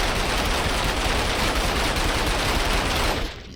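An L86 LSW light machine gun in the Minecraft Flan's Mod video game fires in one loud, continuous burst of rapid shots for about three seconds, then stops abruptly.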